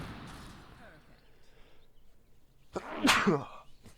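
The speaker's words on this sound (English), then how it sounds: "I'm gonna have to sneeze again" A single sneeze bursts out near the end, loud and close, after a stretch of soft background noise and muffled movement.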